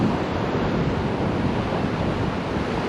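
Rough grey sea breaking on the sandy beach at Dawlish Warren in South Devon, a loud, continuous wash of surf with gusting wind buffeting the microphone, no voices.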